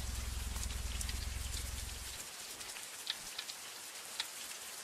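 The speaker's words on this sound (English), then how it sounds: "Oh, it's raining underwater again." Steady rain hisses in the Brick Rigs video game on an underwater ocean map, a dense broadband patter with a few sharper drops, while a low droning hum runs underneath for the first couple of seconds.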